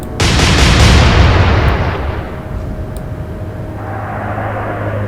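Heavy naval guns firing in the warship game Atlantic Fleet, Royal Navy against Kriegsmarine: a loud deep boom bursts at once and rolls away into a long fading rumble.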